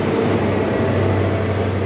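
ScotRail train on the Glasgow–Aberdeen line, heard at Stirling station: a steady low rumble and hum of the train running, continuous and fairly loud with no voices.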